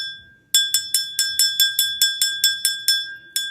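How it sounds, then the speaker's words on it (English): A small, bright hand bell rings rapidly about a dozen times in a quick, even series, close and clear in a quiet room, before a tarot reading. "I always ring my bell before I start my reading"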